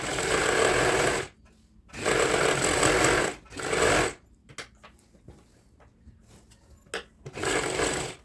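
A sewing machine runs stitching a kurti seam in close, steady bursts, three short runs and a final one, with quieter gaps of faint fabric handling in between.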